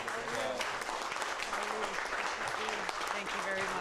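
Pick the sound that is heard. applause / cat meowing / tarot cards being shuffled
applause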